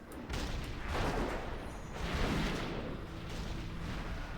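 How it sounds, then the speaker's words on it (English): Cannon fire booms in a World of Warcraft battle, heavy rumbling blasts rolling one into another at a moderate distance, fairly quiet and continuous with no talking. "Get some cannon fire coming in."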